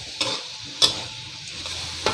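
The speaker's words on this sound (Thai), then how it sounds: "ผัดหมูกับกระเทียมจนหมูสุกนะครับ" Pork and garlic stir-fried in a pan for a southern Thai pork with shrimp paste dish: a spatula scrapes and clacks against the pan in a few sharp strokes over a low, steady sizzle.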